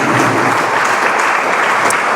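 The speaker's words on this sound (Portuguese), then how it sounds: "Aplauda o nosso Deus bem forte." A church congregation claps loudly together, a dense, close roar of hands that holds steady for the whole short stretch.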